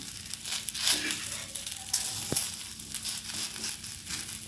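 A beetroot cutlet fries in oil drizzled around it in a pan, giving a soft, continuous sizzle with light crackles and an occasional utensil scrape, fairly quiet and close.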